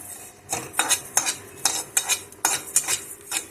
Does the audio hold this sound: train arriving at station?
no